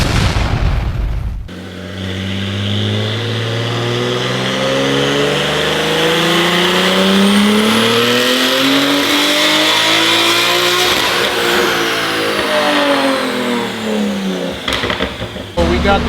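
A 1200 HP BMW M4 running E85 ethanol fuel screams through a full dyno pull, its turbocharged engine note climbing steadily and loudly to a peak, then falling away as the run ends.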